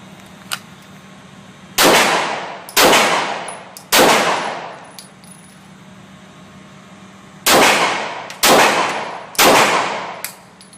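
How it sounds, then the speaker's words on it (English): Handgun shots at an outdoor shooting range during a timed drill: six loud sharp reports in two groups of three with short gaps, each ringing out with a long decaying echo, no talking. "fire 3 rounds using both hands, and then 3 rounds using your support hand only in 10 seconds"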